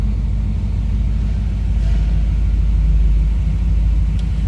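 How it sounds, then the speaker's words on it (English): A 1960 Pontiac Bonneville convertible idling, a steady deep low rumble from the engine, loud and close, holding an even level with no talk over it. "Good sounding car."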